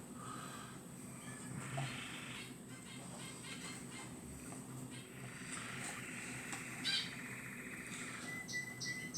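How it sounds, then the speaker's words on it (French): A small bird sings faintly in the distance, with a few brief chirps scattered through steady outdoor background noise. "il va chanter le petit oiseau, vous allez l'entendre"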